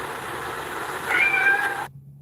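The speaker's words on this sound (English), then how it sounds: "I heard the kitty." A single cat meow, short and fairly close, rising over a steady background hum before cutting off.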